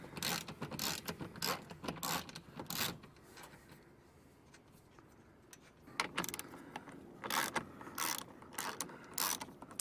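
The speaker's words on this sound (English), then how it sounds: "then I'll undo the mounting brackets on both sides" Clicking, ratcheting metallic mechanism sounds come in bursts as the mounting brackets holding a solar panel to a camping roof rack are undone, with a quieter gap in the middle.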